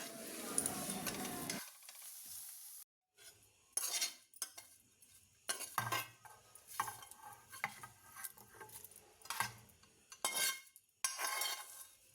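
Fenugreek leaves and onion fry in a pan, a soft sizzle beneath repeated scraping strokes of a metal spatula, with short clinking bursts and brief pauses between stirs.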